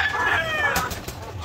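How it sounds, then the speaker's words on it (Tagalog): Chickens in a coop while feeding, a busy flock with soft clucks and chatter layered over steady background noise, close by and continuous with no talk. "So yan yung mga manok natin kumakain."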